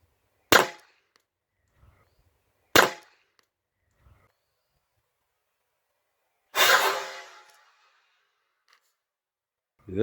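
Three sharp, loud reports from an HDR 50 less-lethal revolver fired at a car tire, spaced a couple of seconds apart, the last with a longer hissing burst, separated by near silence.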